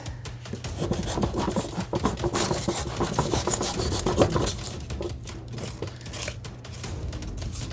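Scratch-built bunker material for a Star Wars Legion tabletop model being cut and chopped to shape rocks, a continuous close rasping and scraping with uneven strokes.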